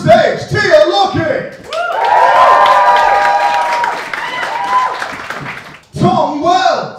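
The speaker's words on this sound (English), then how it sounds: "Please keep clapping!" A live studio audience at a comedy game show applauds and cheers in a loud, sustained swell with whoops, while a presenter's voice is heard before and after it.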